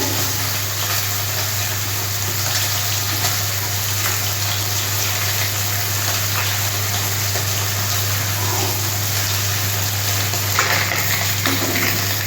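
Small fish sizzle steadily as they shallow-fry in hot oil in a pan for a home-style Bengali curry, a continuous close, even crackle with no talking and a constant low hum underneath.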